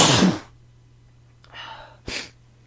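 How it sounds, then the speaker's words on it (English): A single loud sneeze from a man opens the clip, followed by softer sniffs and breathy exhales in the quiet that follows. "I got a sneeze coming on."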